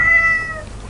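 A house cat gives a single drawn-out meow, fairly loud and close, fading toward the end with no one speaking.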